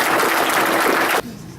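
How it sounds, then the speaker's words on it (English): A rally crowd claps and cheers loudly for about a second, then the applause cuts off abruptly into a quiet room. "So let's give them a round of applause."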